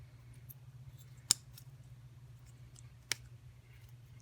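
Scissors cut something off during work on a Ford Fairmont resto-mod: two crisp, isolated snips about two seconds apart over a quiet, steady low hum, with no speech.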